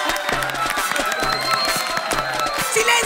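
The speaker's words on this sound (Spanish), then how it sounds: "¡Un aplauso, pueblo de Yo Soy!" A studio audience on the Yo Soy impersonation talent show applauds and cheers for costumed contestants, a dense, steady wash of clapping and crowd noise filling the room for the whole stretch.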